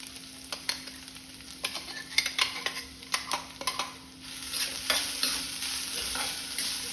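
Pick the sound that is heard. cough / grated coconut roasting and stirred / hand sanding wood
grated coconut roasting and stirred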